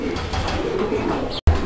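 Pigeons at a fancy pigeon sale coo steadily and close by, a low continuous murmur throughout, broken by a brief dropout near the end.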